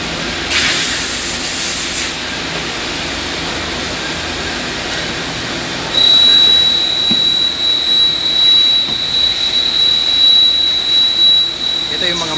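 Manually operated CNC machines run in a Korean factory with a steady broadband whir and hiss, a sharp high-pitched tone joining midway, while a voice speaks over the machinery.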